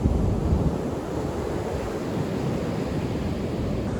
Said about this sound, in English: the waves against those stones are so high